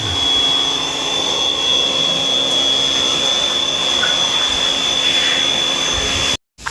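A loud, continuous high-pitched blower whine roars steadily with a constant tonal hiss while cleaning an air conditioner, then cuts out abruptly near the end.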